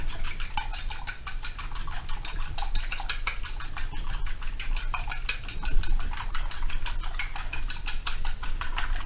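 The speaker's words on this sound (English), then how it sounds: "let's whisk our eggs" Rapid, steady clinking of a whisk against a bowl while whisking eggs, a fast metallic rhythm that continues throughout, close and fairly loud.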